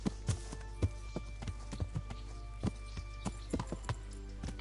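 A horse canters in Kingdom Come: Deliverance, its hooves clip-clopping in an irregular rhythm of fairly close, moderately loud thuds with no other sound.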